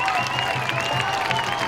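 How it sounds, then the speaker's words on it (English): Steady crowd noise from a college football game between Georgetown and Columbia, a broad wash of cheering and clapping that fills the stadium continuously without any single voice standing out. "The crowd trying to get him going."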